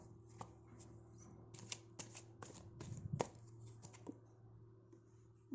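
Tarot cards being shuffled and drawn by hand, heard as close, quiet bursts of riffling and flicking card snaps in quick irregular clusters over a steady low hum.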